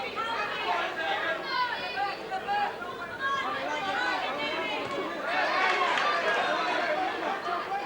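A boxing-match crowd cheers on Irish boxers, a dense, continuous roar of shouting and chatter swelling toward the end, while a commentator talks over it.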